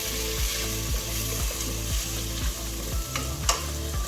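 Kerala cashew nut curry with coconut milk sautéing in a pan: a steady frying sizzle broken by regular scraping strokes of a stirring spoon about twice a second, close and moderately loud, with no talk.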